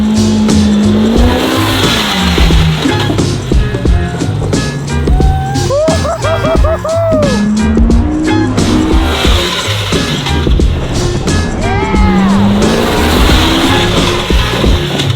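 A RZR off-road vehicle drives hard toward a gap jump, its loud engine rising and falling close by with scraping and skidding of tires over rough ground, no talking.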